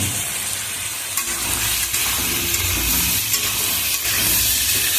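Potatoes frying together with onion and pointed gourd in a pan for a Bengali prawn dish, a steady loud sizzle with stirring scrapes throughout and no talk.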